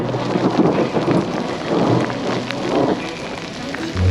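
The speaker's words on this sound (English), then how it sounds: "the ominous sounds of thunder and lightning began to be heard up above us on the mesa" Thunder rumbles low and heavy above a mesa at Mesa Verde beneath steady, hissing rain pouring onto surfaces, loud and continuous throughout.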